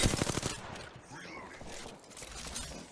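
Rapid gunfire bursts in a shooter video game ring out loudly at the start, then give way to quieter scattered shots and game ambience, with a voice talking over the sounds.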